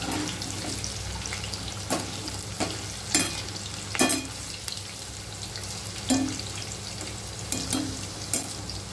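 Cauliflower florets frying in hot oil for an Indian cauliflower fry masala, a continuous crackling sizzle broken by repeated sharp scrapes and stirs at irregular intervals, close and fairly loud with no talking.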